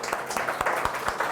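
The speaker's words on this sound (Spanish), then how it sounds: "un fuerte aplauso" An audience at the close of a CPAP workshop breaks into applause, a quiet, fairly thin patter of claps with a few sharper hand strikes standing out.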